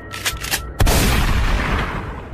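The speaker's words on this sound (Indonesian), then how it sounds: "Tiba-tiba terdengar suara tembakan bergema, berbunyi." A loud, sharp gunshot cracks out and rolls away in a long, booming echo that slowly fades.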